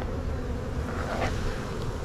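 Honeybees droning around a hive being removed by hand without a protective suit, a steady close buzz with slight wind rumble and no voices.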